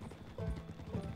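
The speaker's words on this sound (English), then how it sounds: "Topping A in time with your horse's gallop will stop its stamina from draining" A horse gallops in Red Dead Redemption II, with quick rhythmic clip-clop hoofbeats that stay fairly even and moderately loud over a low rumbling game backdrop, and no voices.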